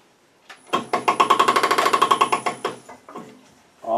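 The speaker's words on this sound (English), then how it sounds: "face off the bottom. Let's see what we've got. So we'll do that with a swept back bowl gouge." A wood lathe turns the bottom of a small child's stool while a swept-back bowl gouge cuts it, giving a rapid, even chatter of tool strikes that lasts about two seconds, loud and close, before it stops.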